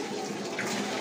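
Tap water runs steadily in a household setting in Bulacan, a continuous close hiss of flowing water with no talk over it.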